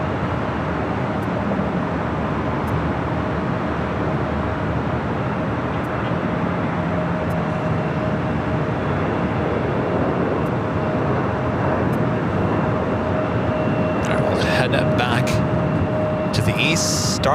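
Broad steady jet engine roar from a Lufthansa airliner turning onto a taxiway for takeoff at LAX, a continuous mid-distance rumble with a faint steady whine, some brief higher clatter near the end.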